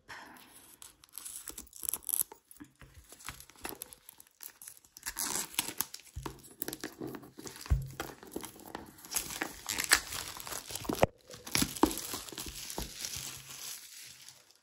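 Close-up paper crinkling and tearing in irregular bursts, rustling and crumpling as paper packaging of an oracle card deck box is handled and opened on a table, with brief quiet gaps.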